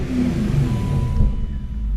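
A BMW E39 M5 engine with its muffler deleted revs briefly in a garage, giving a loud, close, raspy surge that drops back within about two seconds.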